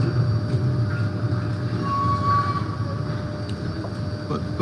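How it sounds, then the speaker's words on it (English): Loud, steady rumble of heavy passing traffic fills the whole stretch, dense and continuous at close range, with a thin high whine or squeal rising briefly in the middle; no one speaks. "Sorry about the noise here, guys. A lot of traffic."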